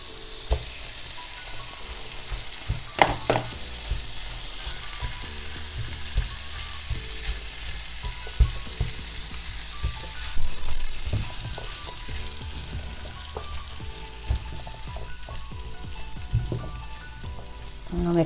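Spinach and chickpeas fry in a hot pan, a continuous close sizzle broken by stirring clatters and utensil knocks against the pan.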